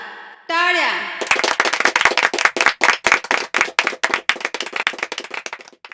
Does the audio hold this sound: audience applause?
yes